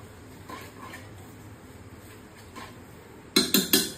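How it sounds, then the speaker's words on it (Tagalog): After a quiet stretch, a spoon clanks sharply against a cooking pot three times in quick succession while humba, a braised pork dish, is stirred. "Tapos, siyempre, haluin natin."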